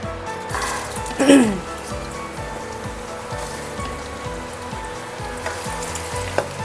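Potato french fries half-frying in a batch of hot oil give a steady, dense sizzle and crackle throughout, close and even, with a brief louder burst of bubbling early on and no talking.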